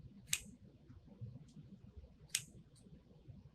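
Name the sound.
scissors cutting ribbon tails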